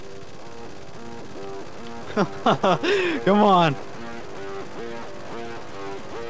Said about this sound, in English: there will be so many choppers just coming